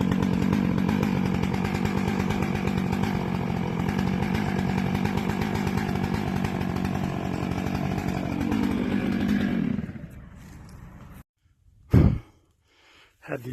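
A chainsaw roars steadily while cutting through timber in the woods, close and loud for about ten seconds, then cuts off, followed by a few faint knocks and a sharp thud.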